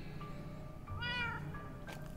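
A cat meows in the video game Minecraft Story Mode, with one clear, drawn-out meow in the middle over a quiet background hum and some fainter tonal game sounds around it.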